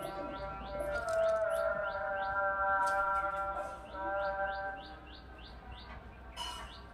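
Birds in a loft where Saharanpuri pigeons are kept: repeated bright chirps and tweets in quick series, fairly faint, pausing and resuming over a low background hum, with no talking.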